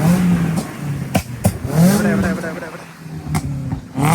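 A modified Swift Dzire's engine revving loudly nearby, with sharp exhaust pops and cracks breaking through as people talk over it.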